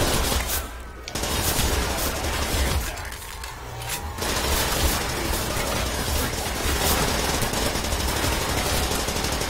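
A PPSh submachine gun fires in Call of Duty: World at War's Der Riese zombies mode, loud sustained automatic bursts that briefly break off twice before rattling on continuously.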